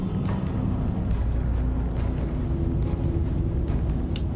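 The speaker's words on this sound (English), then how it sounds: "Alright, I'm gonna fire. EMP firing now." An EMP device fires from a ship in the Star Citizen space game, a loud, sustained low rumble with scattered crackling bursts that fills the whole stretch without letting up.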